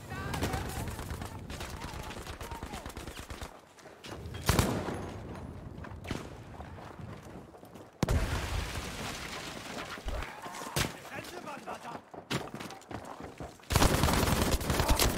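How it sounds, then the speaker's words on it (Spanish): Gunfire in Battlefield V on PS4: dense bursts of rifle and machine-gun fire with sharp loud cracks, continuous through the passage, while players talk over it. "A mí del Battlefield lo que más me gusta son los disparos estos tan ricos que pego."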